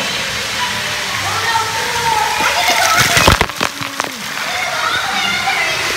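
Someone swims at a Blizzard Beach water park, with a constant rush of water and a brief burst of louder splashing midway, as voices call out over it.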